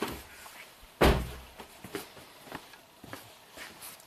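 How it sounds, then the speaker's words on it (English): A single solid thunk of a Toyota Avalon car door shutting, followed by a few faint knocks and clicks in an otherwise quiet space. "Close the door."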